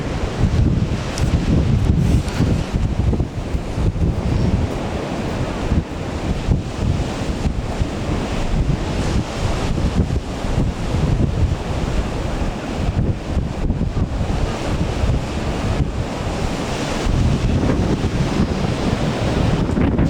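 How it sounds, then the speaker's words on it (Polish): Baltic Sea waves break and wash continuously at the Sopot pier in the off-season, with strong wind buffeting the microphone, a loud, dense roar and no speech. "jak widać, tak wygląda morze Sopockie"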